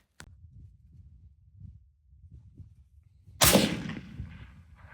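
A single sharp M40 rifle shot rings out at a 1,000-yard range, a loud broadband crack with a short decaying tail, preceded by a faint click and low rumbling background.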